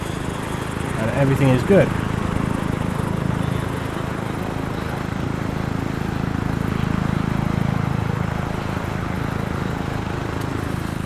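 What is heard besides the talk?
helicopter flying in video game Arma 3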